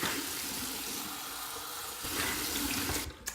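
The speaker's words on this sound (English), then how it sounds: "All right, let's go with the cold water." Cold water runs steadily from a bathroom tap into a sink, a close, continuous hiss and splash that shifts slightly in tone near the end.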